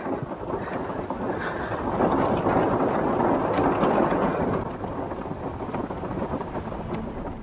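Rain falls steadily outside at a campsite with a low rumble of thunder swelling and fading, a dense continuous wash of sound with no voices.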